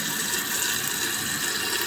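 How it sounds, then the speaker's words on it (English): A repaired toilet tank refills with water, a continuous hissing rush of water pouring in, close and steady throughout with no talking. "And you can hear the water going in there now"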